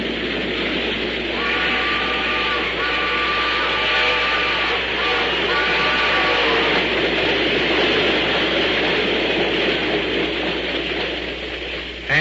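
An old-time radio drama's midnight train effect rolls steadily with rhythmic rail clatter and faint whistle-like tones, continuous and fairly loud throughout with a lo-fi broadcast quality.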